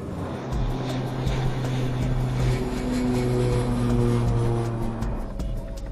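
A steady drone of regional airliner engines with shifting tonal hums and a broad rushing noise, like a cabin during descent on approach to land, continuous throughout.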